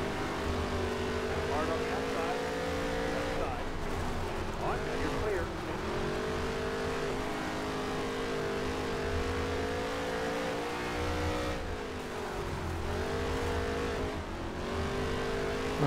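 Race cars in a NASCAR video game roar around the Las Vegas dirt track, a sustained engine drone that rises and falls with throttle as the cars slide through the turns, while a voice talks over it.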